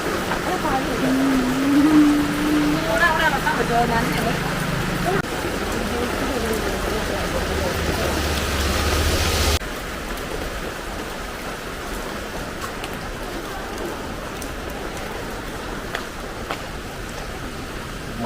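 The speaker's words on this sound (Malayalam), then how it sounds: "മഴയോടും മഴ" Steady heavy rain roars as a broad wash across a road in Kottayam, unbroken for the whole stretch and easing slightly partway through, with occasional voices talking underneath.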